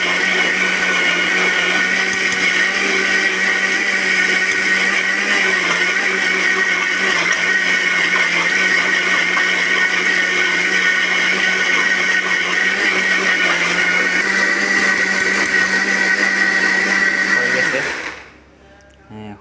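A blender grinds white chickpeas into hummus, a loud, steady whirring drone that runs continuously for about seventeen seconds before abruptly cutting off.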